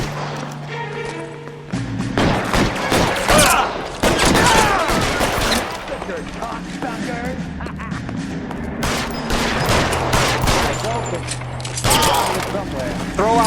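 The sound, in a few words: gunfire in a shootout, from the video game L.A. Noire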